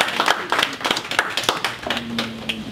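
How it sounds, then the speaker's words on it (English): Applause from a small group, with close, rapid hand claps that stay steady for a few seconds before a low hum enters toward the end. "A round of applause."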